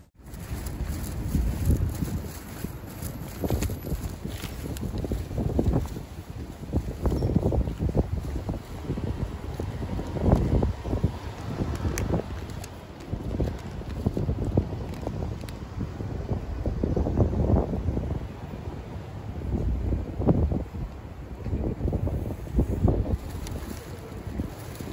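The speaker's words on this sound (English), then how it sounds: "Very windy here" Strong wind blows outdoors in Japan at night, a continuous low rushing roar with gusty buffeting against the microphone, steady and loud throughout with no talking.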